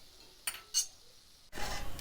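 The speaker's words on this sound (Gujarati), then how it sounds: "હવે ચમચો ઘડીક મૂકીશું નીચે." A couple of light metallic clinks as a spoon is set down, followed by a brief scraping rattle, close by in a quiet room.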